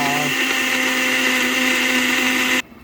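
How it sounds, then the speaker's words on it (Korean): A blender grinding wild ginseng whirs loudly and steadily close by, then cuts off abruptly near the end. "믹서기에다가 잘 갈아서 예, 갈쌈을 준비합니다."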